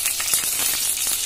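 Mustard seeds crackling and spluttering in hot coconut oil while tempering for an Onam sadya-style koottukari, a dense, continuous sizzle with sharp little pops, close and steady throughout.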